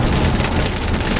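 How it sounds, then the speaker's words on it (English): Heavy rain drums steadily on a Tesla running FSD Beta while it drives on the highway, a dense, loud, continuous wash of hissing spatter with a low road rumble beneath and no voices. "We engaged here with some pretty heavy rain."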